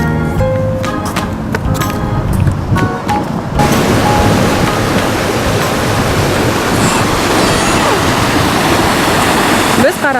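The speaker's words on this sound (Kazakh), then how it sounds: "Біз Қаратау өзеніне келдік." The Karatau river flows in a loud, steady broadband rush that fills the whole stretch, with some brief voiced sounds over the water in the first few seconds.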